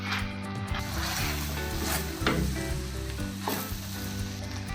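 Vegetable biryani being stirred in a pot right after lemon juice is added: a steady close sizzle with scraping and stirring strokes running throughout, loud and continuous.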